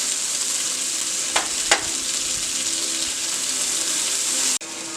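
Fish sears in a hot pan as butter goes in, giving a loud, even sizzle with a couple of sharp clinks near the middle and an abrupt drop near the end.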